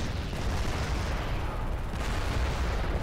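Mech weapons fire in the MechWarrior Living Legends game, a dense, rumbling barrage of booming shots and blasts rolling continuously without talk.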